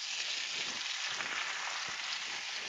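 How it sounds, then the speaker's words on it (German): Cubed potatoes fry in a pan of very hot oil for a farmhouse skillet, giving a loud, steady, close sizzle that holds evenly throughout with no voices. "Die werden schön scharf angebraten von beiden Seiten."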